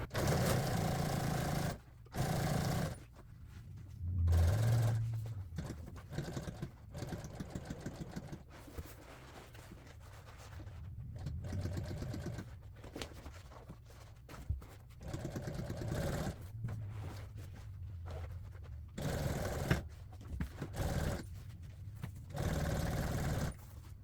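A sewing machine stitching car upholstery fabric, restarting a seam from the center over previous stitching; its motor runs in steady whirring bursts with short stops between runs, fairly close and alone.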